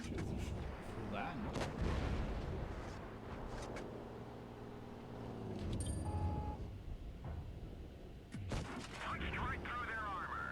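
Tank combat in the WoT Blitz video game, a heavy cannon boom and engine rumble under a steady mechanical drone, with a few sharp hits and clicks toward the end.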